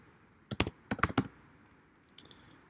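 Keys on a computer keyboard are typed in a short burst of quick clicks, close and quiet, followed by a pause and two more taps, with no talk.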